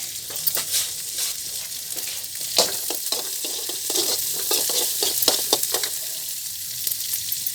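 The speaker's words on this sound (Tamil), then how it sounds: "இப்போ எண்ணெய் போட்டு கடுகு போட்டுட்டோம். பாருங்க, வெங்காயம், பச்சை மிளகாய் போடுறேன்." Onion and green chilli frying in oil with mustard seeds: a loud, close, continuous sizzle with frequent spatula stirring and scraping strokes, no speech.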